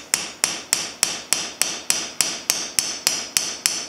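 A hammer taps lightly and steadily on a nail set, driving nails into a wooden door frame while the glass is being set. About a dozen sharp, evenly spaced knocks sound close and clear, with no talking.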